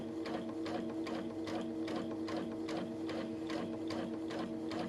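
A Brother sewing machine fitted with a dual feed kit stitching a seam gives a steady, fast mechanical chatter with a regular rhythmic pulse and a constant motor hum, running continuously and alone.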